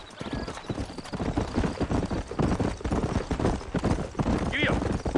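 A horse clip-clops along at a steady rhythm while being ridden in the video game Red Dead Redemption, with hoofbeats loud and continuous and a brief whinny near the end, a voice speaking over it.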